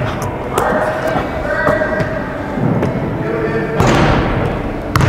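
A basketball dribbled on a gym floor during a shooting workout, with a few dull thumps and bounces spread across a noisy court and a voice coaching over them.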